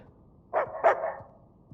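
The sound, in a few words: dog barking in the video game Uncharted 4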